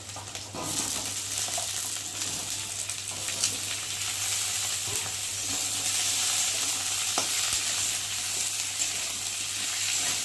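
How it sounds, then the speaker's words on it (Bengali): Cut potatoes and eggplant fry in a pan of oil, giving a steady, close hiss of sizzling with faint stirring scrapes throughout and no talk. "এখন এর মধ্যে কেটে রাখা আলু বেগুনগুলো দেবো"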